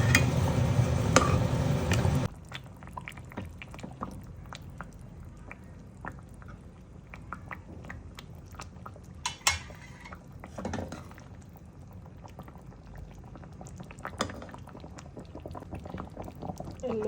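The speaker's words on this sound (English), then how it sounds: "So the curry has come to a nice boil" Mangalorean surmai fish curry simmering in a pot, a steady soft bubbling broken by occasional clinks and stirring taps, after a louder opening burst of sizzle.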